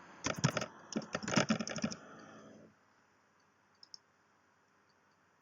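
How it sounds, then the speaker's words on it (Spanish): Rapid keystrokes clatter on a computer keyboard as a new word is typed, a quick burst of close clicks for about two seconds, then near silence with one faint click. "escribo una nueva palabra"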